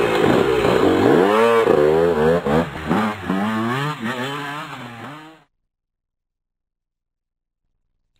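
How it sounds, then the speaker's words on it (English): A motorcycle engine revs up and down in rising and falling waves for about five seconds, loud and close, then cuts to silence. "Yes! A motorcycle!"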